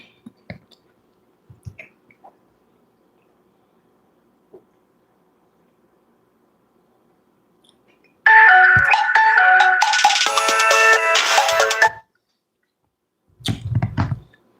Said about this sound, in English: I don't know why she's calling on this phone.